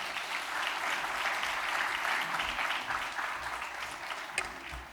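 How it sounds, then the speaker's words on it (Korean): A church congregation at a Sunday worship service applauds to welcome a speaker, a steady wash of many hands clapping throughout, fairly close and even in loudness. "우리 박수로 맞이해 주시면 감사하겠습니다"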